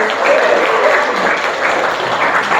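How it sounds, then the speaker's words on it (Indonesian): A class applauds a classmate, with dense, steady clapping from many hands filling the whole moment at close range and no voices over it. "beri tepuk tangan kepada Jonathan Genji"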